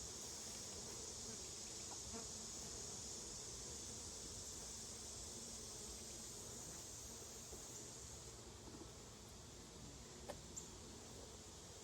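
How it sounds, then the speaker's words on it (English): Agitated honeybees buzz steadily around an open hive during an inspection and frame upgrade, a dense, continuous swarm drone close by with no talking. "I'm having to go fast because these bees are getting mad."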